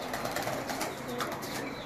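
Soft, low pigeon cooing close by in a dense, continuous murmur, with rustling and faint wing movement.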